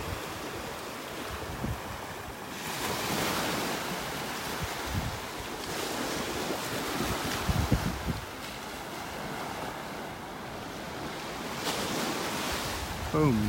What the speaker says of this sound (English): You can see the waves breaking along the sandbars, along the edge of Wiggins Pass